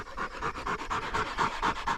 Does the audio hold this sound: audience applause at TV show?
no